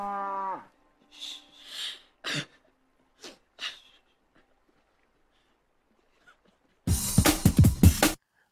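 A cow moos once in a short, low bellow, followed by a few quiet snorts and breaths, then a loud burst of noisy rustling near the end.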